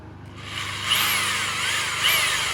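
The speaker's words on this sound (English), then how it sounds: "drill our first hole right here" A power drill whirs steadily as it bores a hole while installing a car front splitter, its pitch rising and falling with a couple of sharp revving bursts.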